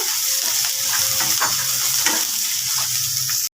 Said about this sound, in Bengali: আমি একটু আদা রসুন বাটা দিয়ে দিচ্ছি একটু হলুদ একটু লঙ্কার গুঁড়ো দিয়ে ভালো করে আদা রসুনটা ভেজে নেব